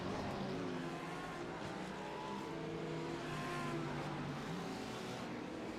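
Ford GT race car in a racing video game at Indianapolis, an unusual sustained engine drone with shifting harmonic pitch, steady and fairly loud throughout without pauses; no talk.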